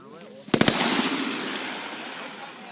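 A rifle fired on an outdoor shooting range: three sharp shots in quick succession, each followed by a ringing echo that fades over the next two seconds.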